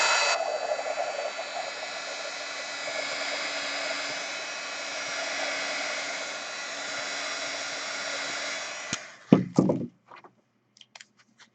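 Steady whooshing roar of a heat tool blowing hot air over a piece of artwork, held close and constant for several seconds, then switched off and followed by a few scattered handling knocks and clicks.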